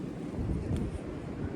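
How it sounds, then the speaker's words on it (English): Steady wind roaring through the treetops overhead in a calm forest, a continuous low broadband rush heard close and unbroken, with no voices. "you can hear the wind going above the trees"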